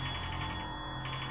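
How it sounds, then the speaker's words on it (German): A telephone rings steadily in the video game Concrete Tremor, set in a prefab apartment block, a continuous electronic bell tone that is loud and close with no talking. "Ja, ich gehe gleich ans Telefon."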